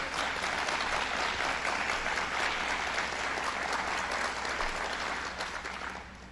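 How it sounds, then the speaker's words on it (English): An audience at Governor Cuomo's Buffalo press event gives a round of applause, a full, sustained roar of clapping from many people that stays loud and level before easing off near the end. "So let's give them a round of applause"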